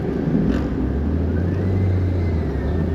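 A Daihatsu Copen's engine rumbles steadily close by, a low, continuous drone that builds slightly at the start of a Nürburgring lap, with no talk over it.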